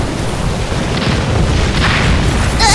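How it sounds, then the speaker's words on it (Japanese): A loud, sustained explosion jutsu attack in the Naruto Online mobile game, a heavy booming roar filling the whole moment with a rumbling, noisy blast texture and a short effect at the end. "連続一点集中爆破だ"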